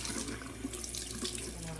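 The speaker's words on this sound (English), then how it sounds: "I am going to rinse this part." Tap water running steadily while a plastic part of a L'Oreal at-home hair colour device is rinsed under it, a continuous close splashing hiss for the whole short moment.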